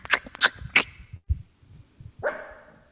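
A pet dog gives three sharp, close barks in quick succession indoors, followed by softer thumps and a brief higher yelp or whine.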